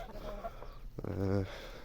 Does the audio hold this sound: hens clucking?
yes